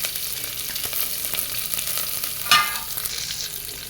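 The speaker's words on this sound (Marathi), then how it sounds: "त्यानंतर फोडणी घालताना जिरे, लसण, एक हिरवी मिरची आणि कढीपत्ता घालूया" Cumin, garlic, a green chili and curry leaves sizzling in hot oil for a buttermilk tempering, a steady bright hiss with one short sharp pop and spatter midway.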